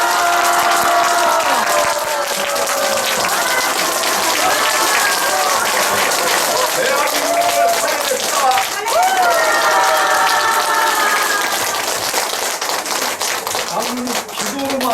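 Audience clapping and shouting at a meeting with North Korean defectors, a dense, steady wash of applause and cheering filling the room with voices mixed in throughout.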